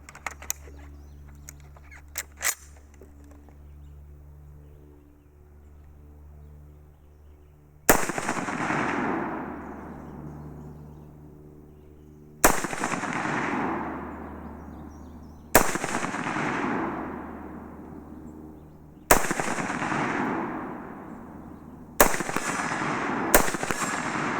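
A Ruger Mini-14 Ranch Rifle fires single sharp, loud shots at an outdoor range. Five or six reports are spaced a few seconds apart, each trailing off in a long echo, after some quiet handling noises at the start.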